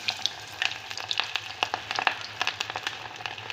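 Chicken drumsticks wrapped in a potato and meat coating fry in hot oil, giving a steady close sizzle dotted with rapid crackling pops and spits throughout.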